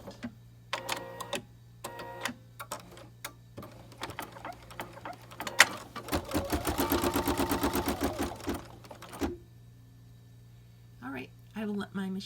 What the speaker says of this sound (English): I will let my machine finish up sewing this sequence